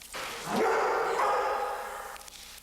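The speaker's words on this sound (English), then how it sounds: "The dog's warnings allow Sirois to better prepare herself" A seizure-alert dog lets out one drawn-out bark or whining yelp, close and fairly loud, sliding up in pitch and then fading over a couple of seconds.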